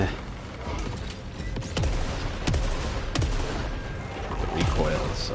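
Sci-fi shotgun fire in Saros, several sharp blasts spaced about a second apart, each with a falling whine, over a busy mechanical background with a voice talking.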